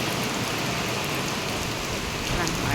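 Heavy rain pours down steadily in Visakhapatnam, a dense, continuous hiss of drops hitting surfaces close by, with water running off steps, loud and unbroken throughout with no voices.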